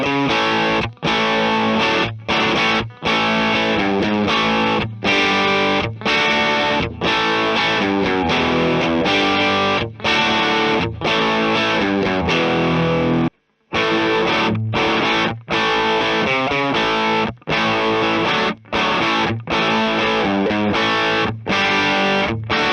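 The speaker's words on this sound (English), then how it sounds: "we are hearing the same riff with cable tone off and on." Distorted electric guitar riff played through a NUX B-8 wireless system, heard twice with the cable tone setting off and then on: loud, dense chugging with rhythmic stops and a brief silent gap in the middle, with no talking.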